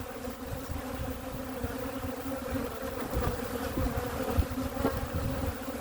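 Bees buzzing at an open beehive during a hive inspection, a dense continuous drone of many insects close by, with individual bees swelling louder as they pass.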